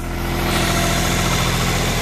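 A 2001 John Deere 5210 tractor with turf tires, forks, bucket and backhoe idles steadily up close, a loud, even diesel rumble with constant low harmonic throb and no talk.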